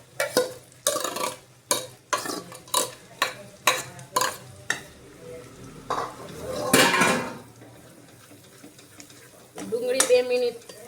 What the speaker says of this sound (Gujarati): હવે આપણે ડુંગળીની ગ્રેવી નાખશું।